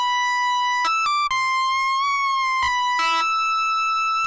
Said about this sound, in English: now we should have a reverb throw without adding any effects in post